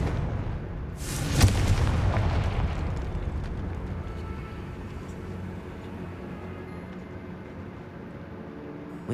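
A Confringo fire spell explodes in Hogwarts Legacy with one sharp, loud burst that rolls into a long, fading rumble and debris noise, alone with no talking.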